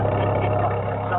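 A Mustang V8 with a lumpy cam idles nearby in a steady, loping rumble, heard briefly and alone.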